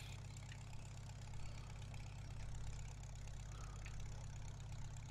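A tractor engine idles in the Farming Simulator video game, a steady low, throbbing hum that runs unbroken and fairly loud throughout, with no voices.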